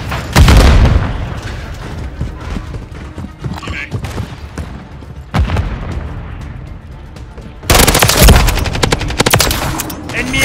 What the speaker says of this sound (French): Frag lancé. Je lance une grenade.